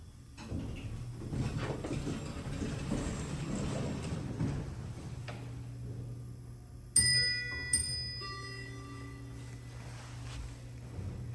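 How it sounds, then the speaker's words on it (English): A mechanical chime on a Westinghouse traction elevator in the Medico-Dental Building strikes twice in quick succession, bright ringing tones that decay slowly over a low steady machinery hum. "do I love the mechanical chimes."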